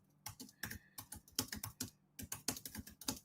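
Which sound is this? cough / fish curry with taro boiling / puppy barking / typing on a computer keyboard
typing on a computer keyboard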